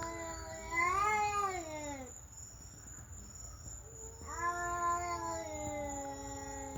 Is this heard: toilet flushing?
no